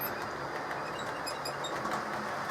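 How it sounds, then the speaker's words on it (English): A model train runs over freshly oiled track, giving a steady, even rumble and faint rail hiss that holds at a constant level throughout, with no voices. "now run the train over it. And now it all runs nice and smoothly."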